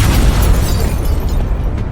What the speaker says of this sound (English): With a follow-up explosion, Fenya shattered them all.